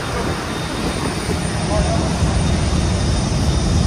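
Airliner cabin just after landing in Sydney, with a steady, loud broadband engine and ventilation roar filling the space throughout and no distinct events standing out.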